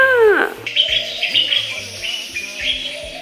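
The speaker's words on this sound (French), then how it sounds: "Tu entends le bruit des oiseaux?" Birds chirp and call nearby in Mali, a loud, steady chorus of repeated tweets and coos with a sweeping call at the start, continuing without talk.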